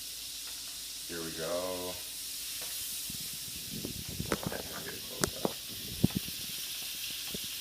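Butter sizzles in a pan as the base for a cannelloni sauce, giving a steady soft hiss behind a person speaking briefly, with light clinks and stirring knocks near the end.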